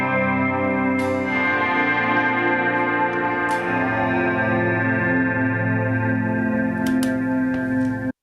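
Guitar tones pass through a Space Station effects pedal, washing into a dense, sustained ambient drone with layered echoing harmonics and a few sharper plucked attacks, loud and continuous without voices.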